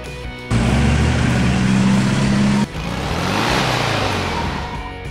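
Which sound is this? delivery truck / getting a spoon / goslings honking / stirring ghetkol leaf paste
delivery truck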